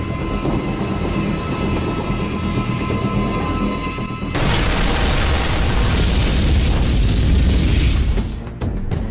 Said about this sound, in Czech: slyšeli venku mohutný výbuch